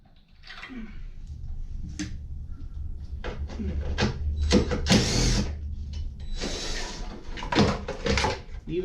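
An impact wrench spins out 10mm headlight bolts from a truck's core support in a few short, loud rattling bursts, mixed with clanks and handling noises in a garage.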